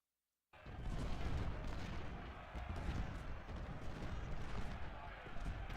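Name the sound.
artillery fire in a Civil War video game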